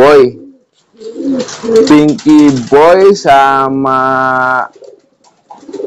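Pigeon squabs coo in a series of close, loud bursts, with a person talking between and over the calls.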